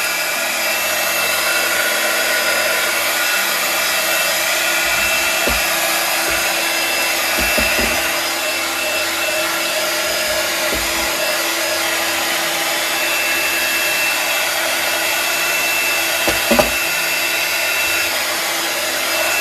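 A heat tool blows steadily and loudly at close range while drying craft materials such as rice paper and moulded pieces on an altered glass jar, with a few faint knocks of handling underneath.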